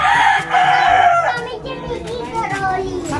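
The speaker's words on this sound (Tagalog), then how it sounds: "Alin yung maingay na manok?" Chickens crow and cluck loudly nearby, one rooster call rising over a busy flock, with children's voices and chatter mixed in.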